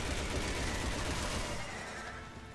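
Dense gunfire from the Resident Evil 6 zombie shooter, a continuous rapid burst of shots that stays loud and then fades slightly toward the end.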